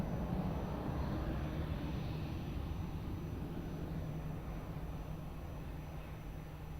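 Airplane taking off at Lisbon Airport, a steady broad engine roar that is fairly faint and slowly fading, heard alone with no voices.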